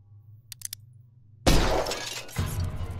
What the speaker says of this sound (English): Shatter picture frames